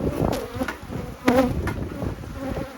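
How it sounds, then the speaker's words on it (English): Bees buzz steadily and close by, a dense droning hum that swells louder for a moment midway. "You see those bees?"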